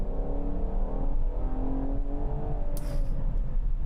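A performance SUV engine from a Bentley Bentayga comparison revs and builds in a rising harmonic drone, heard from inside the cabin, with a short sharp crack near the end and no talk.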